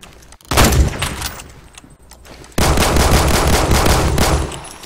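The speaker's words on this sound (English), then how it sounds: "where's that shot come from?" Gunfire in the Roblox shooter Phantom Forces comes as dense, loud bursts of rapid shots, one at the start and a longer one after a short lull.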